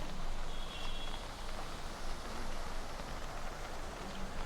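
Heavy rain falling in Jaipur, a steady, dense hiss of rainfall on surfaces continuing without pause throughout, loud and close with no voices.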